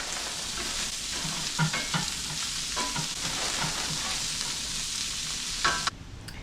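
Sausage fries with chopped onion and peppers in a pan, a steady close sizzle broken by occasional spatula taps and scrapes, ending abruptly.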